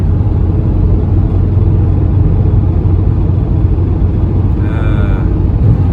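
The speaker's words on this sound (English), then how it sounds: "I think we're running on 3 cylinders. I can't get above 50 miles an hour." A Toyota Corolla engine losing power on a highway, running on three cylinders and held in fourth gear under fifty miles an hour, drones as a steady low rumble from inside the car, with no one talking over it.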